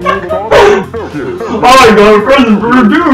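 A dog in the Chibi-Robo video game yips and barks in short bursts, mixed in with a person talking over the game.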